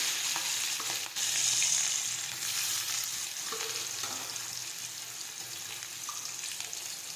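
Chopped onions frying in hot oil with mustard seeds, cumin, curry leaves, asafoetida and chillies for Gujarati dal dhokli, a steady close sizzle with faint stirring throughout, no talk.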